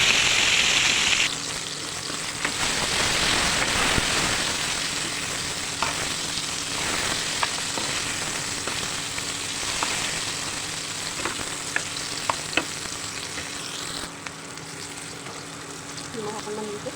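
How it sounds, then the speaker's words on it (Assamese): Food sizzles and fries in a kerahi wok for an Assamese meal, a steady crackling hiss throughout with occasional stirring clinks, loud and close. "এইখিনি ফ্ৰাই কৰিবৰ কাৰণে"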